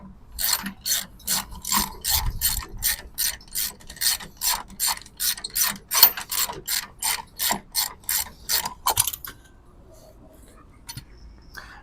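A ratchet wrench loosening the bolt on a trailer tongue jack foot, clicking in a fast, even series of about twenty strokes before stopping, close and with no talk.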